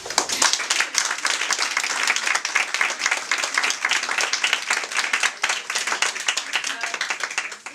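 An audience at an evening discussion event applauds, dense continuous clapping from many hands that stays full and even throughout.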